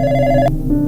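A telephone rings briefly at close range, one tonal ring that cuts off abruptly and leaves a steady low hum behind it.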